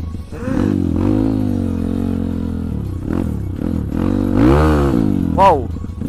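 Honda CRF 150 motorcycle with an engine tuned up to 266cc, revving close by in a series of rising and falling throttle blips, a loud rough engine tone sweeping up sharply near the end.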